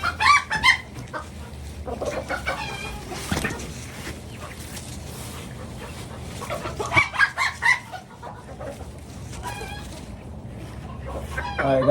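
Chickens cluck and squawk nearby in bursts, with a rooster-like call among them and rustling movement in the background.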